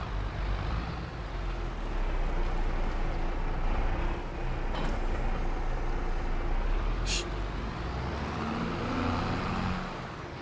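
A tractor running a mower in Farming Simulator 22 drones with a steady low engine rumble throughout, loud and close, with a brief hiss and a short high tone partway through.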